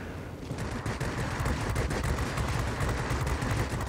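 Rapid aircraft machine-gun fire in the World of Warplanes game, from a La-9 fighter against an IL-10 attacker with a tail gunner, rattles in dense continuous bursts over a steady engine drone.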